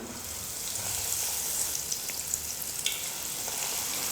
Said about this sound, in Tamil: ரெடி பண்ணி வச்சுருக்கிற உருண்டைகளை எடுத்து எண்ணெயில் போட்டுக்கலாம்.